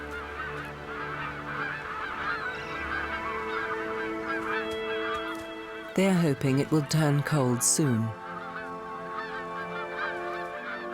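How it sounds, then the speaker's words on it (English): Geese honk in a brief, loud flurry of calls over Hudson Bay in Canada, lasting a couple of seconds midway, while a narrator speaks over steady background music. "With the departure of the last migratory birds, Hudson Bay falls silent"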